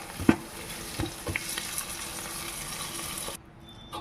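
Coriander powder and biryani masala fry in a pan with a constant close sizzle and a few clinking spoon stirs, then the sizzle drops sharply near the end; no speech.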